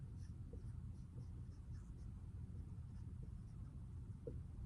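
Faint, continuous scratching of a pen or pencil writing by hand on paper, with small irregular strokes over low background hum and no talking.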